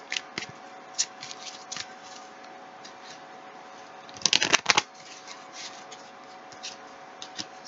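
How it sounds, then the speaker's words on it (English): Tarot cards are shuffled and pulled, making soft scattered ticks and rubs with one louder riffling burst midway, close and quiet, with no talking. "Let's pull some more cards."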